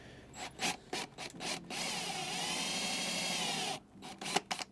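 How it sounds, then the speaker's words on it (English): A power drill with a 1/4 inch bit whines steadily for a couple of seconds, bracketed by short bursts of scraping and grinding against a hard surface while drilling into a Sprinter van's plywood floor. "now we're gonna load up a 1/4 inch drill bit into our drill"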